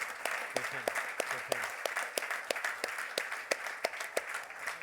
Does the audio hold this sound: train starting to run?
no